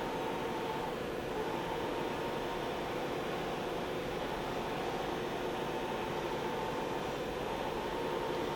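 The Z axis of a Sharp SV-6030 CNC vertical machining center travels with a steady, even mechanical hum and whir, moderately loud and unbroken.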